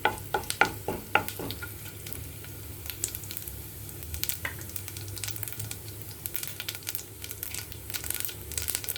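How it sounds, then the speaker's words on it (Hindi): Cumin seeds crackling and sizzling in hot oil in a kadhai, with a few sharp pops early on over a continuous frying hiss and occasional stirring scrapes. "जीरा तड़क रहा है"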